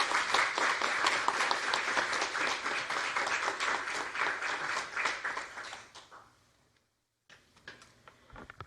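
Audience applause welcomes Huguette Labelle to the stage, a dense, steady clapping from a crowd that holds for about six seconds, then fades into a short silence before a few scattered sounds return.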